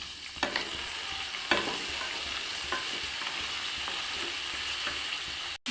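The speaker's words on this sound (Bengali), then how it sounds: "তো বরবটিটাকে একটু ভেজে নিতে হবে।" Yardlong beans fry in a pan with a constant bright sizzle, broken by a few scraping stirs, close up with no talk, ending in a brief cut-out.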